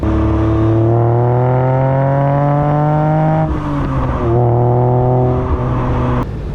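A 1971 Fiat Dino 2400 Spider, with its Ferrari-derived engine, revs up loudly and close, its pitch climbing steadily, dropping briefly at a gear change, then climbing again before cutting off.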